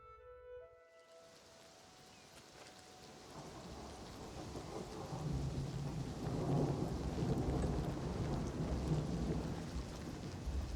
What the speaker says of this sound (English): Alright, so it's all very wet and rainy.